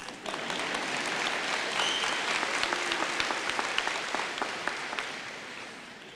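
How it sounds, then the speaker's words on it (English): An audience applauds at a 2014 college graduation ceremony after a commencement speaker is introduced, steady dense clapping that holds for several seconds without voices over it. "Well, go ahead, you can clap."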